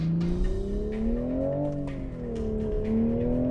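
A 2024 Toyota Supra with a six-speed manual accelerates hard on a race track, its engine note rising steadily through the revs, dipping briefly, then climbing again, loud and continuous with no talking.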